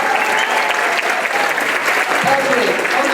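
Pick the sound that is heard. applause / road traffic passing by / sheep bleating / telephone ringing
applause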